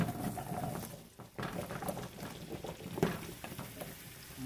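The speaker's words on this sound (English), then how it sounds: "So our butter is all melted. I am going to add our potatoes" Sweet potatoes sizzle steadily in melted butter in a stovetop pan, a close, continuous crackle and hiss with a few stir clatters.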